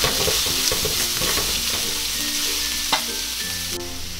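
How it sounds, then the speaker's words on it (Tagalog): Onion tipped into a hot pan where shredded garlic is already frying while cooking cabbage rolls, a continuous loud sizzle with light stirring scrapes and a few sharper knocks. "Ngayon po ay isusunod na natin ang ating sibuyas."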